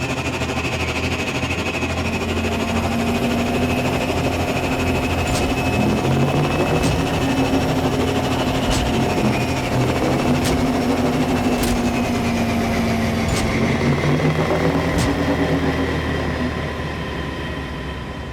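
Layered hover tank movement loops from an Unreal Engine 4 game with Wwise: a steady, dense engine-like drone with humming tones and gently shifting pitch, broken by faint periodic clicks, continuous and loud throughout.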